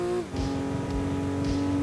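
Racing video game car engine in Gran Turismo 2 on PS1, a steady high droning hum held at constant revs after a brief gear change, with synthetic tonal harmonics and no talk.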